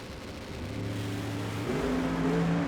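An Outlaw 632 drag race car launches hard at the US Street Nationals semi-finals, its engine note climbing in pitch through a quick gear change, loud and fairly close, with no talk.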